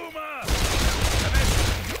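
Gunfire aimed at the Smoker in Left 4 Dead 2, a dense, loud burst of rapid shots sustained for about two seconds right after a brief moment of voice.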